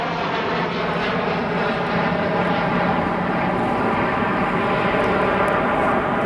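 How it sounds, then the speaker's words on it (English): A brand-new Boeing 737 MAX 8 jet arriving from Tampa roars steadily and loudly, with a broad, sustained engine rumble and a high whine through the whole stretch. "Our next arrival, Boeing 737 MAX 8 arriving from Tampa"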